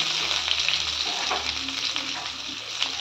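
Steady, loud sizzling of sliced large onions with curry leaves frying in a hot pan, with occasional crackles and stirring noises and no talking.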